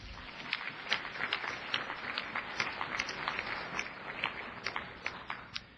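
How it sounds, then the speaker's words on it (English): A conference audience gives a round of applause, soft and somewhat distant, with scattered claps forming a steady patter throughout. "deserves a round of applause for my constituents"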